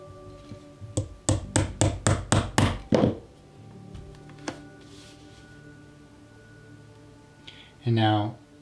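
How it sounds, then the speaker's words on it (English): A 2-prong chisel is hammered through leather for a handmade slim wallet: about seven quick, evenly spaced mallet strikes, then a single later tap, close and crisp. "And I come in now with my 2-prong chisel."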